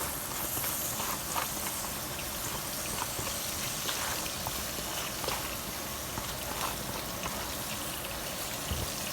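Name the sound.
sweet potatoes sizzling in a hot pan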